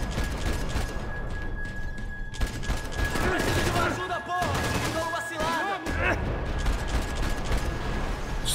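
Dense gunfire from Max Payne 3, sustained bursts of shots and clattering impacts filling the whole stretch, loud and close, with brief voice fragments mixed underneath.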